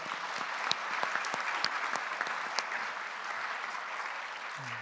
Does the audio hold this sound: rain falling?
no